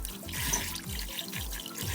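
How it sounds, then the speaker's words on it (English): Potatoes are washed under a running sink tap, a steady close rush of water with soft splashing and low rhythmic knocks as they are turned in the stream. "right now I'm just washing the potatoes and getting them clean"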